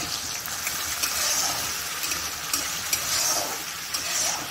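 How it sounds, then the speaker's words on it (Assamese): Onion and spices fry in a pan, a steady close sizzle with faint clinks and stirring scrapes now and then, and no one speaking. "সেইখিনি ভালদৰে ভাজি ল'ম. এইখিনি ভাজি আছোঁ."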